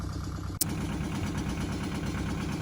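An old farm tractor warms up at idle, its engine chugging in a steady rapid rhythm close by, broken once by a short sharp click early on.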